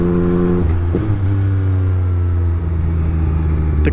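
A 2021 Yamaha MT-09 motorcycle engine runs steadily and loud while riding, holding a low droning tone with brief shifts in pitch and no talk.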